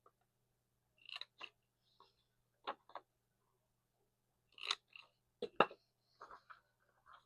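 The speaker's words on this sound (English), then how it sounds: "I didn't chomp the corners on this one, so let's go ahead and do that" Corner chomper punch rounding the corners of a handmade greeting card, a series of sharp clicks and snaps in spaced clusters, close and fairly quiet with silence between them.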